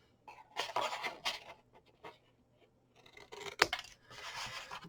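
Scissors snipping through paper card to cut a small half flap on a handmade paper box, a few close crisp cuts separated by short pauses, with a louder cut near the end.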